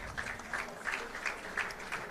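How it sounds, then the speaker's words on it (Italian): Applause from an audience at an Italian football awards ceremony greets a Verona right-back, a steady, fairly quiet patter of clapping that lasts throughout without any speech over it. "Un applauso."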